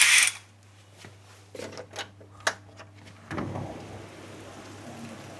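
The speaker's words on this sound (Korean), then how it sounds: "아침부터 빗소리가." A morning rain shower falls during a mountain trek on Fansipan in Vietnam, sounding as a soft, scattered patter with a few sharper drop knocks and a brief loud burst at the start.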